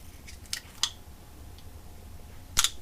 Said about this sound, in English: you'll get your cutters here, slice it down the center there